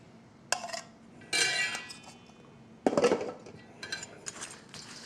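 A spoon clinks and scrapes against a cup while stirring chopped dill pickles, a few separate bursts of metallic rattling with quiet pauses between, close and moderately loud.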